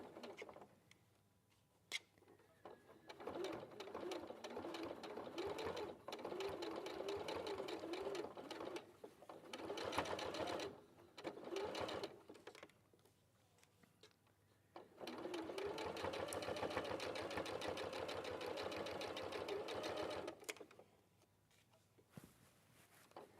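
A domestic sewing machine stitches binding along a fabric edge in two long fast runs, a steady mechanical whirr with short pauses between bursts, fairly close.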